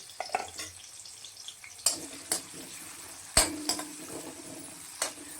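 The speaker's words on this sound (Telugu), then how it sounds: "ఉల్లిపాయలు కొంచెం కలర్ చేంజ్ అయ్యేటట్టుగా వేయించుకుందామండి." Onions frying in hot oil for a tamarind-leaf and raw prawn curry, a faint low sizzle broken by sharp clinks and scrapes of a spoon against the pan, close and sporadic.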